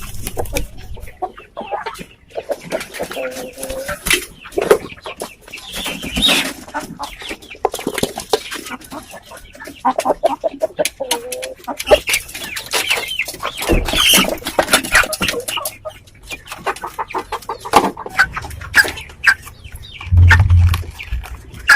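Red chickens cluck repeatedly at moderate distance around feeding time on semi-moist homemade feed, with scattered pecking and rustling throughout and a low thump near the end.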